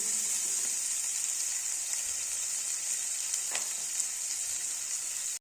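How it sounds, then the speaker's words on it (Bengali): Sliced bitter gourd fries in hot oil in a pan, giving a continuous close-up sizzle with faint crackles and occasional stirring, and no talk. "উচ্ছেগুলো ভালো করে ভেজে নিতে হবে"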